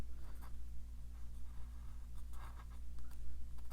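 A pen sketches a small fence on paper for an ink and wash lighthouse drawing, with quiet scratchy strokes in short bursts over a low steady hum.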